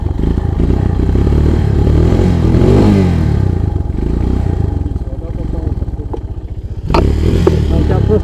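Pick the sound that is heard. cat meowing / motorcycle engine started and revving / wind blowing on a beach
motorcycle engine started and revving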